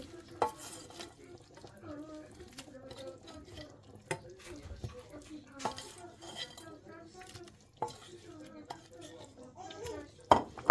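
Chicken pieces and smoked meat go into a pot for peanut sauce, making scattered wet clatters, stirring scrapes and sharp knocks against the pot, with a voice talking throughout.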